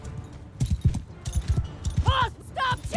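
Horses galloping in Mount & Blade 2: Bannerlord, a fast clip-clop of hooves with a neigh cutting through, under shouted battle commands and a commentator's voice.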